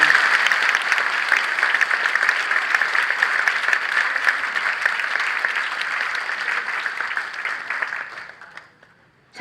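A church congregation applauds at an ordination thanksgiving service, a full, steady round of clapping from many hands that carries on evenly for several seconds and then fades out quickly, with no voices over it.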